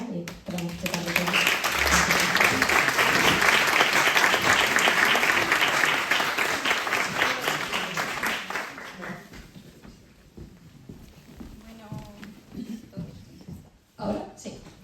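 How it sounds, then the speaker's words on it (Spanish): Audience applause for the poet Aurora Luque at a literary event, loud sustained clapping from a crowd for about nine seconds that then fades to scattered claps, with voices murmuring afterward. "os pido un fuerte aplauso para Aurora Luque"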